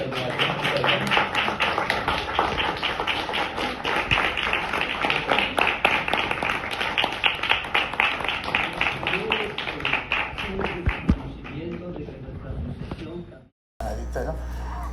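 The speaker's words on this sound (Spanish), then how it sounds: "Le damos un aplauso." An audience claps for don Pedro at a community talk, a rough, uneven patter of hands mixed with background chatter that tapers off, then cuts to quiet before a voice resumes.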